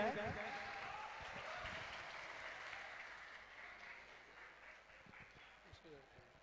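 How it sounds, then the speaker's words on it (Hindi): An audience at a college event applauds to welcome the IGNOU regional director, a steady wash of clapping that slowly fades, with some talk under it. "प्लीज सर, एक जोरदार ताली हो जाए।"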